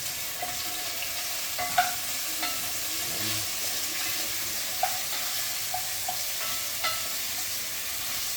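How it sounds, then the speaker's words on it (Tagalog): Ingredients for a sweet clam soup sautéing in a pan: a steady soft sizzle with occasional stirring clinks and scrapes, fairly quiet, no talking. "Ginisa na ang mga ingredients."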